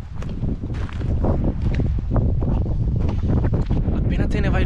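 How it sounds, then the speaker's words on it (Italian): Gusty mountain-top wind blasts against the microphone in a dense, continuous roar, with faint movement sounds beneath it. "E in più c'è un vento assurdo qua su."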